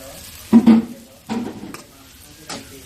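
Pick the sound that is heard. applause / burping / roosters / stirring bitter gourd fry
stirring bitter gourd fry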